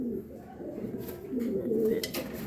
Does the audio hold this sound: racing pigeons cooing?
yes